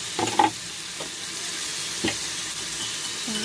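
Sauce poured into a pan of chicken estopado, giving a steady loud sizzle with a few stirring clatters near the start and scattered knocks, no talk.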